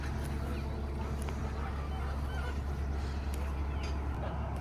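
Pastured chickens near an egg wagon cluck and honk amid heavy low-frequency wind rumble, with occasional louder bird calls cutting through the steady outdoor noise.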